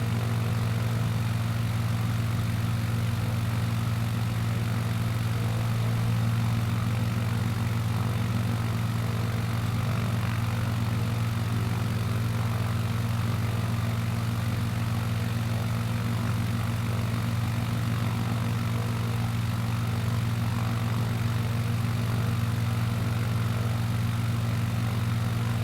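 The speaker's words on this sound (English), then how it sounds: "Nice little airplane." A small propeller airplane in Microsoft Flight Simulator 2020 flies from Inyokern to Olancha Strip, its engine droning as a steady, loud, unbroken hum with strong low tones and no talking.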